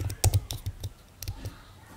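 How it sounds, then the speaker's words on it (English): Quick bursts of typing on a computer keyboard, a handful of close, crisp key clicks in an irregular rhythm that thin out toward the end. "where I can type like hello Gutenberg"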